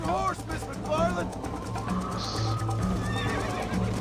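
A horse whinnies loudly in the Western video game Red Dead Redemption, with hoof clip-clops and game sounds while a voice talks over it.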